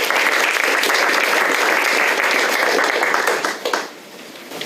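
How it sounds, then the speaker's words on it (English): An audience at a poetry reading breaks into steady, loud applause for an arriving poet, with dense clapping that tapers off near the end. "So I ask you to give a warm welcome,"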